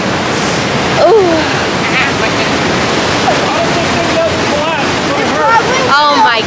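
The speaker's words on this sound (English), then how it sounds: "Behind the waterfall." A waterfall roars in a steady, loud wash of broadband noise, heard from behind the falling water, with brief exclamations from people nearby.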